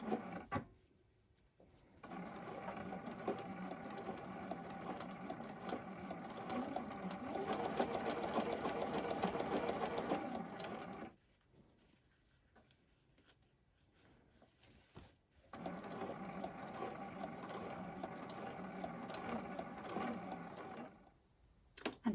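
A sewing machine edge stitches a neckline binding in two steady runs of fast mechanical whirring and ticking, separated by a short quiet pause with light handling clicks.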